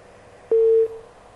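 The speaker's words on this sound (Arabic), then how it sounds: "طيب الخط فصل، كلمنا مرة تانية أستاذ عبد العزيز" A telephone busy tone after a dropped call-in line on a television program sounds as a single steady electronic beep, loud and clear against a quiet background hum.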